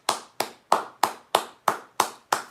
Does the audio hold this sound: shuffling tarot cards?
no